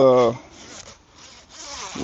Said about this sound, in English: The zipper, it's plastic. It zips.